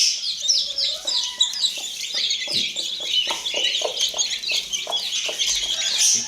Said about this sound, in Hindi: कुक कुक की आवाज़ निकाल के उन्हें बुला के खिला रही है।